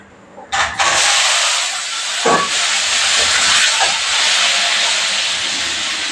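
Cumin and diced potato pieces hit hot oil with a sudden loud hiss that settles into a steady, dense sizzle lasting several seconds, broken by a couple of brief clatters.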